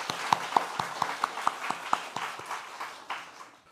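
A church congregation claps in thanks for a guest speaker, Kim Mi-jeong, at a revival meeting, a roughly even beat of distinct claps, about four per second, with a thinner applause wash that tapers off.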